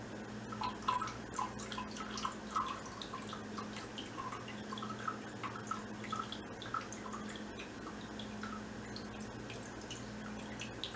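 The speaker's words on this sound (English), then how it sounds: "We're going to pour the ice water over it." Ice water trickles and drips over a sugar cube into a glass of absinthe, a faint, steady patter of small drops close by with a soft background hum.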